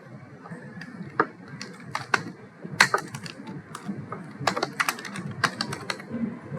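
Rapid, uneven keystrokes on a computer keyboard while entering text into a design layout for a student ID card, close and crisp with clustered bursts and short pauses, no voice.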